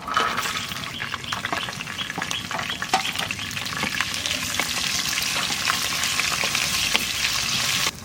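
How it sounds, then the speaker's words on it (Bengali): Whole spices, dried red chilli and bay leaf sizzle steadily in hot oil, a dense crackling hiss broken by scattered louder pops and the scrape of stirring, close and continuous. "মাংস ভাজা তেলের মধ্যে দিয়ে দেবো কটা গোটা গরম মশলা শুকনো লঙ্কা আর তেজপাতা"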